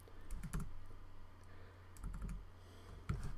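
Keys clatter on a computer keyboard while program variables are typed in, with short bursts of clicks separated by pauses, close and clear, and no talking over it.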